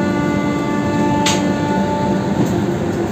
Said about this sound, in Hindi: यहाँ खड़ी है सामने इस तरफ की लोकल ट्रेन